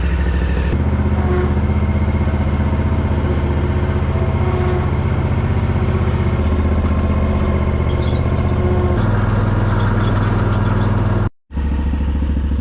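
A Hustler zero-turn mower engine runs loud and close with a steady rumbling idle, shifts pitch a few times, and drops out briefly near the end before continuing.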